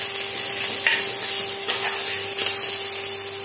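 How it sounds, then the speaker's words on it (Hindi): Three medium chopped onions frying in a pan of hot oil with tempering spices, giving a steady broadband sizzle throughout, with a few soft stirring scrapes and no talking. "अब इसमें हम कटे हुए छोटे छोटे मीडियम साइज के 3 प्याज हैं।"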